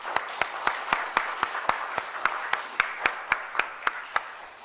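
A church congregation at a Korean elders' association thanksgiving service applauds to welcome a guest, with steady, evenly spaced claps ringing out over a bed of softer applause for several seconds.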